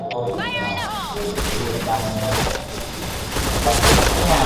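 Bursts of rapid video-game gunfire crackle and thump in quick succession, heard under an excited player's talk.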